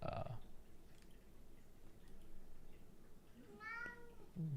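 A pet cat gives a single short meow near the end. The call is faint against a quiet indoor background, with a few soft noises before it.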